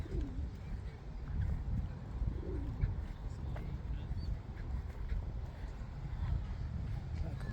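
Pigeons coo softly in a park setting on the Forty Hall Estate in Greater London, low burbling calls scattered over a busy outdoor background with a voice nearby.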